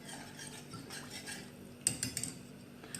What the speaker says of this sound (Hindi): इस दौरान मैं इसमें चम्मच चलाती रहूँगी ताकि मेरा जो बैटर है वो नीचे बेस में लग ना जाए